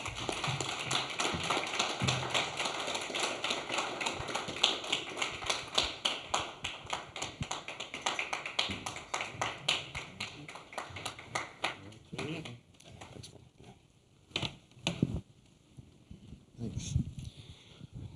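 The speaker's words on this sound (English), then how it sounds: "give him a round of applause" Audience claps for a guest at a SXSW panel session, a sustained round of individual hand claps that thins out toward the end, with a voice heard near the close.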